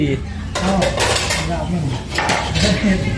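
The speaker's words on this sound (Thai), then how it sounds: "ส้อยหนังส้อยตับส้อยเครื่องในมันครับใส่ลาบนี่ละ" Repeated chopping knocks on a board as chicken meat, skin, liver and offal are minced for larb, steady and close, with some metallic clinks and faint background voices underneath.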